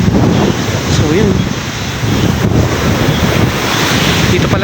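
Strong ocean surf rolls in at a beach beside a community fish landing center, a loud continuous roar of breaking waves mixed with heavy wind buffeting the microphone, filling the whole stretch without pause.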